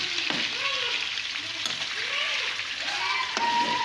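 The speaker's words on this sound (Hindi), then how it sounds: "चिकन को पहले हम सौटे करेंगे।" Chicken pieces sauté in hot oil on a high flame, giving a continuous close sizzle with a few stirring clinks and scrapes. Faint speech-like sounds sit under the frying.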